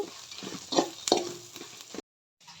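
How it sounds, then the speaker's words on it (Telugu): Coconut, curry leaves and turmeric fry in a pan, giving a steady close sizzle with a few stirring scrapes, then a short cut to silence before the sizzling resumes. "అన్నీ బాగా ఫ్రై చేసుకోవాలి."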